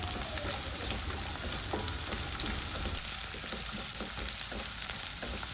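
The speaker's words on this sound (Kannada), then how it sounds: "ಹಾಗೆ 3 ಎಸಳು ಜಜ್ಜಿದ ಬೆಳ್ಳುಳ್ಳಿ, 2 ಎಸಳು ಕರಿಬೇವು, ಹಾಗೆ 2 ಈರುಳ್ಳಿನ ಹಾಕಿ ಚೆನ್ನಾಗಿ ಫ್ರೈ ಮಾಡಿಕೊಳ್ಳಿ." Mustard seeds, cumin, crushed garlic, curry leaves and onions fry in hot oil, giving a steady, close sizzle with light stirring scrapes throughout and no voices.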